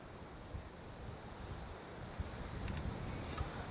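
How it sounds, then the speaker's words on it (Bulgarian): Steady wind roars and buffets the microphone, with a constant broadband rush and occasional low gusty thumps; no voices. "днеска пак духа вятър"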